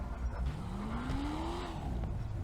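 A Lamborghini Urus SUV fitted with an engine mod in GTA V revs up, its engine tone climbing steadily in pitch over a couple of seconds, loud and close, with no talk.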